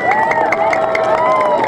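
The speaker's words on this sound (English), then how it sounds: "Can we give him a round of applause and everybody who helped out today?" Junior high students in a school gathering cheer and clap for the designer of their new school, loud crowd shouting with high whoops over a wash of applause, brief and close.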